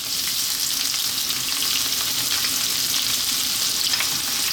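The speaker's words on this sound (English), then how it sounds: "We're going to stir this on a high heat just for 2 minutes." Onions and fresh ginger stir-frying over high heat for a Chinese chicken and vegetable dish give off a loud, steady, close sizzle that holds evenly throughout, with no voices.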